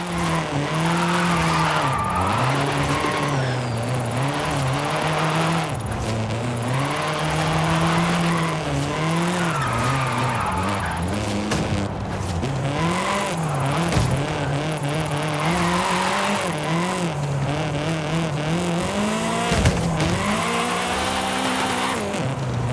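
A race car in the Forza video game drifts with continuous loud tyre squeal over a revving, wavering engine. The sound holds without a break for the whole stretch, close and dominant.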